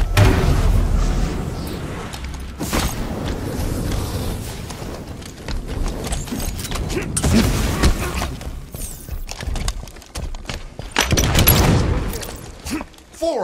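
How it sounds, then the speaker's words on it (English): SMG bursts and gunfire in a Halo 5: Guardians multiplayer match, rapid repeated shots and thumping impacts with explosions, loud and continuous over about thirteen seconds. "I take guys down very quickly, a few shots with the SMG, and one melee"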